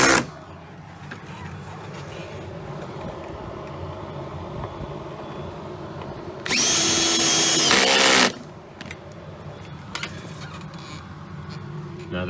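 A power drill runs in one steady burst of about two seconds as it drives window regulator screws into a 2002–2005 Mini Cooper door. Quieter workshop noise and handling sounds come before and after.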